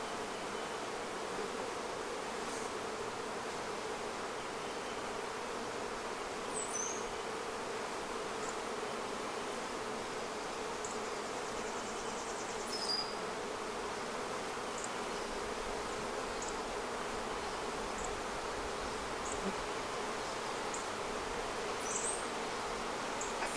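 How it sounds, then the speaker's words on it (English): Honey bees buzz around a Flowhive during the installation of a new queen, a steady dense hum close by with individual bees droning past the ear now and then. "with the exception of the bees swarming my face"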